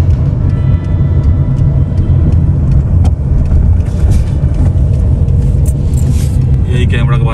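Steady road traffic on busy city streets in Riyadh, a continuous loud low rumble of many cars and engines filling the scene with no clear breaks, with a voice talking over it.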